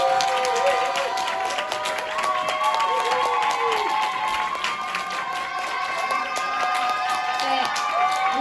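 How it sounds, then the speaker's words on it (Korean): Audience applause at a business presentation, a dense wash of clapping with crowd noise and some voices or music over it, steady and sustained throughout. "큰 박수 부탁드립니다"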